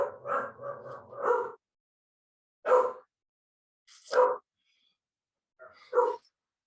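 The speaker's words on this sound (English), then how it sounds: "when my dog barks" A dog barks indoors in four separate bursts, the first a rapid run of several yips, followed by single sharp barks spaced a second or more apart; close, fairly loud, with quiet between.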